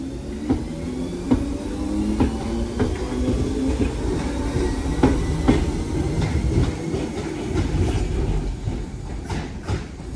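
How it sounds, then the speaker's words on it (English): A double-unit Class 158 diesel train heading to Nottingham rolls past close by, with a continuous rumble and regular clickety-clack wheel beats on the rail joints throughout, heard alone without speech. "the train just went past was a double 158 going to Nottingham"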